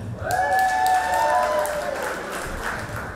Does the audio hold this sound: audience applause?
yes